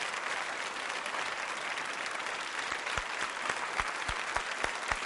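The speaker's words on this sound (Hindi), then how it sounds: "तालियां जोरों से बजाइए आप।" Audience applause at a tourism quiz show for women, a steady dense wash of clapping from a crowded hall, with a few sharp low thumps near the end.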